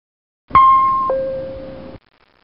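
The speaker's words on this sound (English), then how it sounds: "A two-tone chime sounds in the passenger cabin" Boeing 737NG flight attendant call chime in the passenger cabin, a single clean two-tone high-low ding sounding alone in silence and ringing out briefly.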